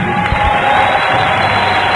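The All England badminton crowd cheers and applauds the runner-up of the 2005 women's singles final, a dense, sustained roar of clapping and shouts filling a large arena.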